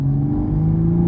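A Toyota Supra pulls in fourth gear from about 2,500 RPM at 35 mph, its engine droning low and steady as the note climbs slightly under load, heard from inside the car without speech.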